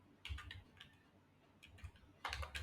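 Fingers tap on a computer keyboard in two short clusters of quick, close keystrokes with a quiet pause between them, faint and crisp with no talk.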